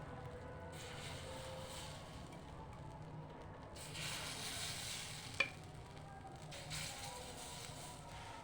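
Faint, low sizzling of Bengali pithe rice cakes frying in a pan, soft and continuous with slight swells and one brief sharp tick.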